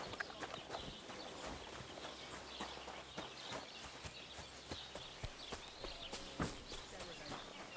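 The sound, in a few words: horses' hooves clip-clopping in Kingdom Come Deliverance 2, video game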